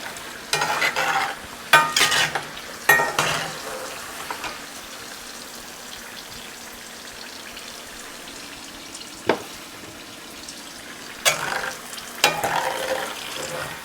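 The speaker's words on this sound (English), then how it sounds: "I've been letting these fry maybe 3 to 5 minutes per batch." Avocado pieces frying in oil for tacos, with a soft continuous sizzle under intermittent bursts of clattering and scraping utensils, a quiet stretch in the middle, and no speech.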